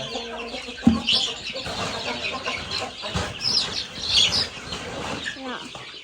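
Chickens clucking and a rooster calling near a rice field where two dogs are kept, sharp bird calls rising over a busy outdoor background while people talk nearby.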